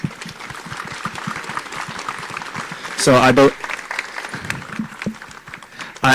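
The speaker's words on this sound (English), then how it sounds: "One more round of applause." Audience applause at a rowing crew anniversary celebration at a boathouse, a moderate patter of clapping running under a speaking voice, with a brief louder burst midway.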